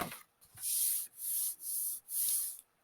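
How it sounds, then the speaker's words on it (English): Glue rubbed onto a paper Christmas gift bag, four smooth, even, hissing strokes of about half a second each, close and clear, with no talk. "Let's just give that glue a rub on both sides"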